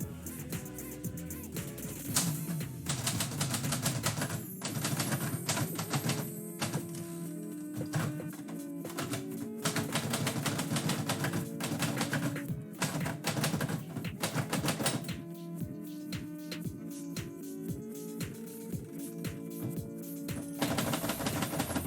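A typewriter clatters away as poetry is typed, with rapid irregular keystrokes, bursts of clacking and occasional pauses over some twenty seconds, heard close up and alone.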